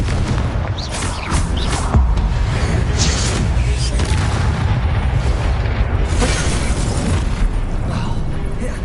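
A fire-spell blast in Hogwarts Legacy sets off a loud, booming explosion with a sustained rumbling roar and scattered crackling bursts filling the whole stretch.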